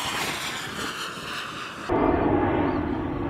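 An airplane passes overhead near an airport, a loud broad roar with wind rush that swells abruptly partway through and stays strong to the end.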